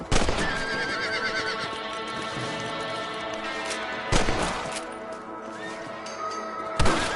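Horses in a Wild West video game whinny loudly several times over rapid clip-clopping hooves, with sharp thuds and bursts punctuating a dense, steady galloping bed.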